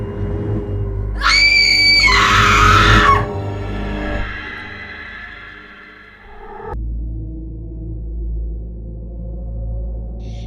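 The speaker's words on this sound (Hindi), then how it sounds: "उसी वक्त मैंने उसी औरत की चीख की आवाज सुनी" A woman's shrill, loud scream rings out for about two seconds over a low droning horror-story soundscape, then fades into dark rumbling ambience.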